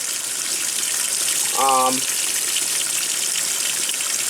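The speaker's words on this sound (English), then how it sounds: "it's now filling up the rinse tub with water" Water rushes steadily into the rinse tub of a 1996 Maytag washing machine, a constant loud hiss with a brief voice partway through.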